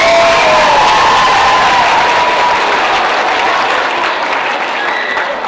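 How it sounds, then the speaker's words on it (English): Steady applause with some cheering rises from a school audience at a middle-school Pink Out celebration, filling the room loudly and evenly before easing slightly toward the end. "How about a little extra round of applause for Mr. Upchurch and Mr. Myers in the back here."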